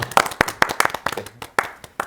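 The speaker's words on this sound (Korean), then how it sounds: "저희 다 같이 박수 한번 좀 치고 갈까요?" A small studio group claps together in a short burst of distinct, fairly close hand claps with an uneven rhythm.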